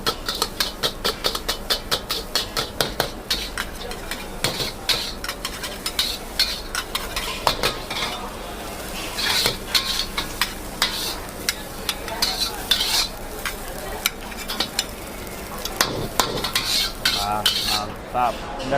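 Fried rice being stir-fried in a pan in a live-style kitchen, with a steady sizzle under repeated scraping and clanking of a metal spatula against the pan, continuing for the whole stretch without any talking.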